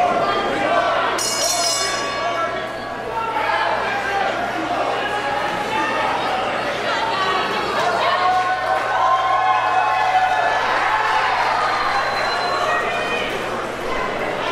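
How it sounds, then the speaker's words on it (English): Wrestling crowd cheering and shouting steadily through a women's match, a dense continuous roar with some barking-like calls mixed in, under a commentator's voice. "Crowd vocalizing their excitement for this one."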